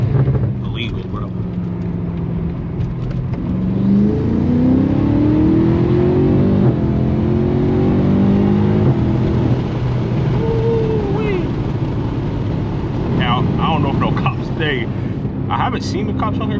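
BMW M5 Competition tuned to 800 hp accelerating hard down a back road, a loud sustained engine roar with rising pitch as it pulls through the gears, heard from inside the car with excited talk over it.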